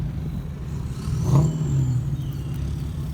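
A car engine at a car meet rises briefly in a rev with a turbo whistle, then settles back into a low rumble amid steady background noise, without talk.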